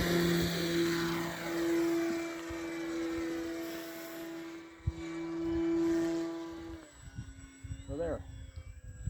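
Fun Cub model airplane takes off and flies, its electric motor whining loud and steady with a sustained buzzing tone that shifts as it climbs away; a voice talks briefly in the background.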